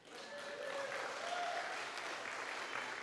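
Audience applause at a comedy magic show, a steady broad wash of clapping that holds at an even, fairly loud level from start to finish without voices over it.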